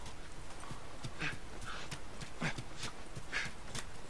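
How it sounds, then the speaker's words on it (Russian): Horses gallop in The Last of Us video game, their hooves beating a quick, irregular clip-clop over a low, steady noise floor, faint and a little distant, with no talking. "И лошади сами прискакали"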